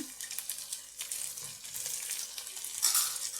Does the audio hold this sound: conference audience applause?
no